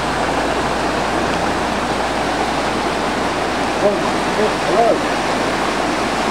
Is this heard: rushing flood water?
yes